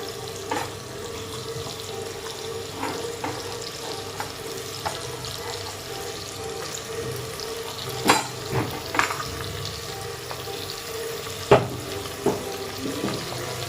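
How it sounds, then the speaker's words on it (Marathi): Sliced onions hitting a hot pan of oil for soyabean pulao, a continuous low sizzle with scattered stirring knocks and a few sharper clatters midway. "यावर आपण टाकत आहोत हा उभा चिरून ठेवलेला कांदा।"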